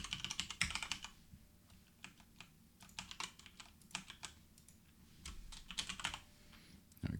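Keystrokes on a computer keyboard as a password is entered, a quiet, irregular run of light clicks and taps in short bursts with small pauses, close and alone without talk.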